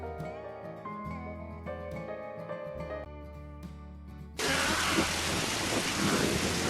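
Steady, loud rain in a film scene, starting suddenly after a stretch of sustained music and continuing as a dense wash of sound.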